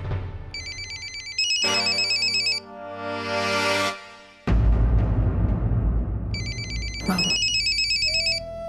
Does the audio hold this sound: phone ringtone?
yes